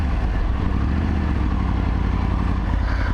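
An adventure motorcycle pulling away under throttle on a highway, its mid-pitched engine droning steadily and loudly with wind and road roar for a few seconds, no voices.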